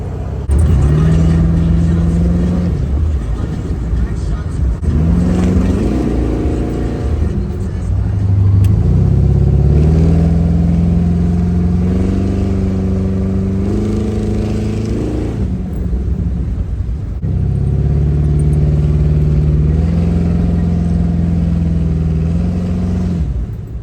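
A car with an LS engine swap cruising on the road, a steady low engine hum with gentle rises and falls in pitch as it shifts and accelerates, continuous and fairly loud throughout, with occasional voices.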